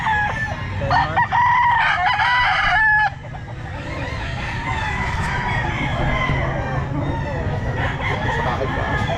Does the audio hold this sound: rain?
no